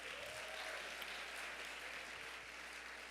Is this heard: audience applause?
yes